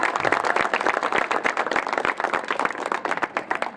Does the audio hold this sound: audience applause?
yes